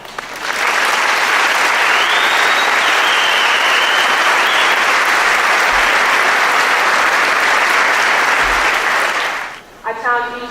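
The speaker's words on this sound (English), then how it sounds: "I would like you to join me in a round of applause to thank our mentors" A large commencement audience at Saint Joseph's College gives its mentors a long, loud round of applause, dense uninterrupted clapping lasting about nine seconds before fading out, followed by a voice as it stops.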